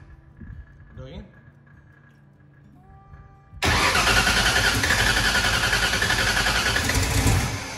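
Turbocharged small-block Ford car engine with a 118mm turbo, heard after a few quiet seconds of faint clinks and movement, suddenly cranking and firing into a loud, dense, close-up roar that holds steady to the end.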